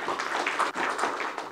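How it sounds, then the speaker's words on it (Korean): A forum audience at a regional revitalization awards ceremony in Korea applauds to welcome the Geumsan county governor, a steady wash of many hands clapping at moderate distance. "박범인 금산 군수님의 환영사가 있겠습니다. 큰 박수로 환영해 주시기 바랍니다."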